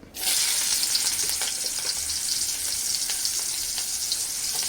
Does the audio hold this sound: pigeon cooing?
no